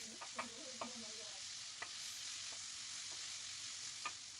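Beef frying on a sac pan for sac kavurma, a dense, even sizzle holding steady at low level, with a few sharp utensil taps and scrapes scattered through it.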